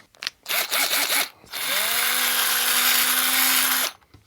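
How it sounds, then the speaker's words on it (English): A power drill with a metal bit widens a pre-drilled hole in a joystick case, heard as short revving bursts and then a sustained whine of about two seconds, loud and close, with no talking. "there's a little pre-drilled hole in here that I'm going to widen with a drill bit"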